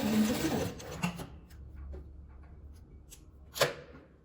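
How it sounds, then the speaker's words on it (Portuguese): Sewing machine stitching fabric scraps together for a patchwork flower rug: short bursts of fast mechanical stitching with pauses and handling noises between, close by and alone. "E vamos costurando."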